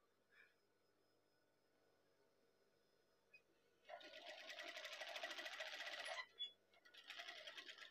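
A sewing machine stitches the V-neck of a batik blouse in a quiet room, running in a steady, fast whirring burst of about two seconds, then pausing and starting again briefly, with no voices.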